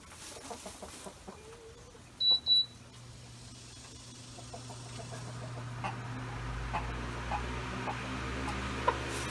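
Chickens cluck faintly in a coop under a steady electrical hum from a newly powered fan, with a couple of sharp beeps early on and a low rumble building later.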